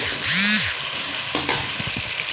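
Ginger garlic paste and crushed green chili hit hot oil for aloo and chicken kofta, a loud, close sizzle with a utensil scraping and stirring near the end.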